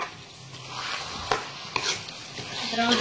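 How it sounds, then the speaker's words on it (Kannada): Soft sizzling of chicken frying in a pan over high flame, with a couple of sharp scraping knocks from stirring, fairly close. "ಹೈ ಫ್ಲೇಮ್ ಒಳಗ 2 ರಿಂದ 3 ನಿಮಿಷಗಳ ಕಾಲ ಚಿಕನ್ ಫ್ರೈ ಮಾಡ್ಕೊಳ್ಳೋಣ್ರಿ"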